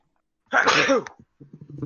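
A single loud, close sneeze bursts out, followed by a few faint breathy sounds and quiet movement.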